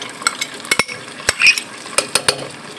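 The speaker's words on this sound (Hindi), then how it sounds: "इसको भूनेंगे, और थोड़ी सी देर भूनने के बाद चिकन शामिल कर देंगे इसके अंदर।" Spices frying in oil in a pot while a spoon stirs them, sharp scraping clinks of metal on the pot at irregular intervals over a faint sizzle, close and alone without talk.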